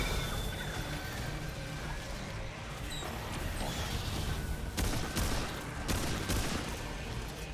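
Dense gunfire from the video game Remnant II, a steady sustained barrage of rapid shots with a few sharper bursts near the end, loud and continuous throughout with no talk.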